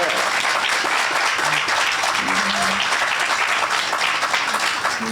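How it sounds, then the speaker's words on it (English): An in-person crowd at a California celebration of the Americans with Disabilities Act's 35th anniversary applauds itself, a steady, even wash of clapping throughout with faint voices underneath. "So give yourselves a round of applause for being here today."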